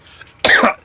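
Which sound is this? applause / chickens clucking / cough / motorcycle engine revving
cough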